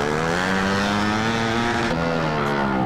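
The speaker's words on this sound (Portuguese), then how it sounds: "Botar pressão na motinha" A Start 160 motorcycle with a straight exhaust pipe revs hard, its engine note rising and holding loud and close, then dipping slightly near the end, with no talk over it.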